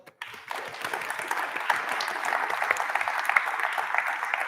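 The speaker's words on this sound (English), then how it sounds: "We'll ask for another round of applause." An audience at a tech conference's main stage claps steadily, a fairly soft, even patter of many hands that starts abruptly and holds for a few seconds.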